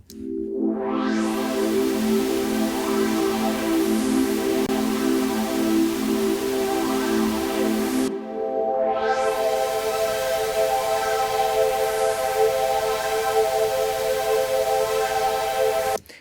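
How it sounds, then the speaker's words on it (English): A sustained old-school jungle synth pad swells in with a bright, airy wash, holds steady chords, then restarts with a second swelling chord for the remainder. "Just play the pad sound now."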